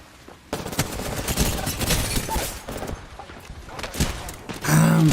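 Dense video game gunfire in an Apex Legends-style battle royale shooter, bursts of rapid shots layered over one another through most of the stretch, with a brief quieter gap near the start and loud hits toward the end.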